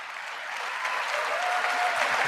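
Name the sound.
audience applause during a State of the Union speech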